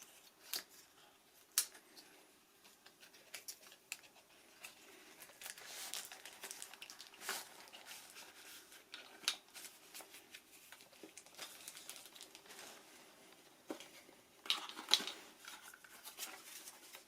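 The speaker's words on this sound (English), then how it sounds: "I'll just open up the plastic packaging around the remote control extension rod itself" Plastic packaging around a DJI remote control extension rod is opened, giving quiet, scattered crinkles, snips and rustles with a few sharper bursts, close up and faint, with no talking.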